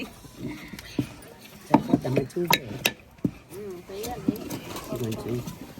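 Stiff ariselu dough of rice flour is mixed vigorously in a bowl, giving irregular thumps, scrapes and knocks beneath steady conversational talk.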